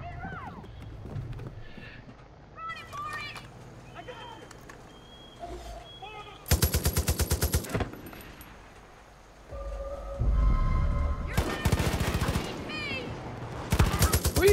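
Gunfire in the video game Far Cry 5, with loud bursts of rapid automatic shots and scattered single cracks amid game ambience and effects, while someone talks over the action.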